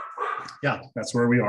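A dog barks and yips in short bursts in the background of an online class lecture, partly under a person talking nearby.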